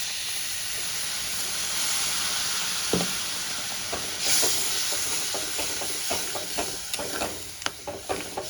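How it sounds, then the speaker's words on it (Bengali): Water poured into a hot pan of fenugreek and spices, setting off a loud steady sizzle and hiss, followed by a sharp clack and then scattered stirring scrapes over the bubbling. "এবার আমি পরিমাণ মতো জল অ্যাড করে দেব।"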